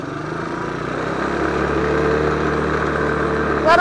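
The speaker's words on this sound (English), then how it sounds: "now we're back with the gas version. Let's throw her into first gear." Gas-powered four-wheeler engine revving in first gear, a steady buzzing drone that gradually rises in pitch and loudness as it pulls away, with a brief sharper burst right at the end.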